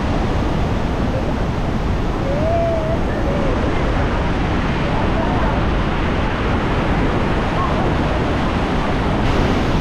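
Roaring waterfall at the Devil's Throat, Iguazu Falls, Brazil: a dense, steady broadband roar of falling water, loud and constant throughout with no breaks.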